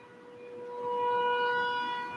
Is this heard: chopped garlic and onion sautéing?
no